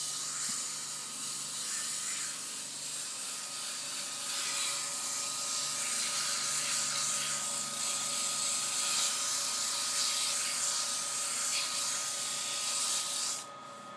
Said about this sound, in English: Okay, so we're going to sand it now. I'm using 150, 220, 320, and 400.